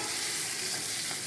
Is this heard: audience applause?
no